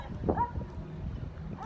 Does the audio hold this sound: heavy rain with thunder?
no